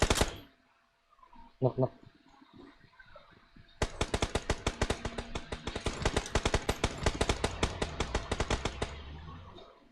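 Gunfire in PUBG Mobile: a couple of short bursts early, then a long rapid automatic burst of loud close shots, with someone speaking briefly near the start.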